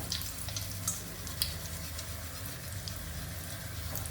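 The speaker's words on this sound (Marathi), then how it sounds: "पहिले आपण मनुके तळून घेऊया" Raisins frying in hot oil, for a festive corn chivda, give a steady crackling sizzle with scattered sharp pops and light stirring throughout, close and even in level.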